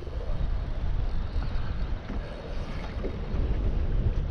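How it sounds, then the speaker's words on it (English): Strong wind at a coastal fishing spot at low tide, a loud steady roar buffeting the microphone with the wash of rough water beneath, no voices, continuous for a few seconds. "The wind's picking up."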